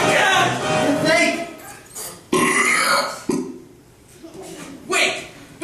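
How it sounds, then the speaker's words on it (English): Burping in a musical film scene where characters float and must burp to descend: loud, drawn-out belches in a sequence of bursts, mixed with voices and music. "Wait, burping is the answer."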